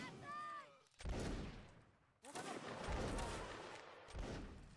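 Musket volleys in a Napoleonic Wars line-battle video game crack out in a few loud bursts, with a voice briefly at the start and distant gunfire between volleys.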